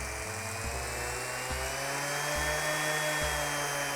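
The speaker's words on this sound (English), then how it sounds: "as I turn the dial up, you can hear the sander speeding up" An orbital sander whines continuously while its motor pitch rises gradually as its speed dial is turned up, with a periodic low thump marking each step up in speed.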